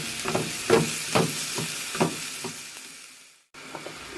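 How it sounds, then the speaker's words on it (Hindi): Carrots and sugar are stirred in hot ghee in a pan. A steady close sizzle runs under about six rhythmic scraping stirs, then drops out briefly before resuming. "अब हम इसमें चीनी डालेंगे और गाजर भी डाल देंगे और इसे मिक्स करना शुरू कर देंगे"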